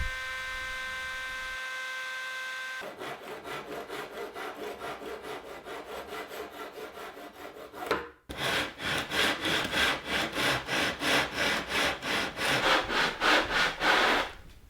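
Steady back-and-forth strokes of a hand saw cutting through wood, rhythmic and close, after a brief electrical hum at the start.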